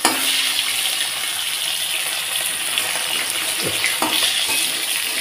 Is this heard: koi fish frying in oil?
yes